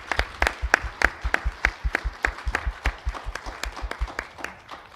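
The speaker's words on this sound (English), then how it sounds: "can the audience please give all of our candidates a round of applause" An audience at a city council candidate forum gives a round of applause, a thin crowd of distinct, rhythmic hand claps that stays fairly steady throughout and tapers slightly toward the end.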